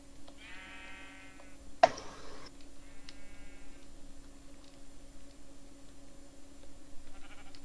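Sheep bleat in a video game, a few short harmonic bleats at moderate distance over a steady low ambient hum, with one sharp loud click cutting in between them.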